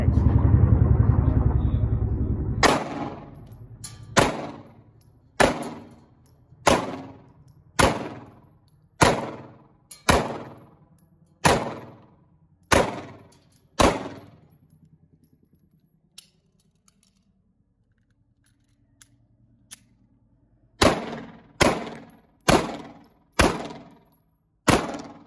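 SIG Sauer P365 micro 9mm pistol firing outdoors: a steady series of about twelve sharp, loud shots at roughly one-second intervals, a pause with faint handling noises, then five more quick shots.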